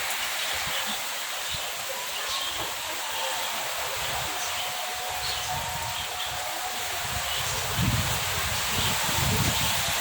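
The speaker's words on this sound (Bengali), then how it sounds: "ঝড় হচ্ছে, ঝোড়ো হাওয়া টাইপের।" Gusty wind roars and rustles through leaves, with low rumbling buffets growing stronger toward the end.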